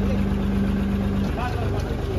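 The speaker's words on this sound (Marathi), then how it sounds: "जनरेटर" A steady, low generator hum from a band's sound-check truck runs continuously and fairly loud, with a brief tonal whine and some faint background voices over the rumble.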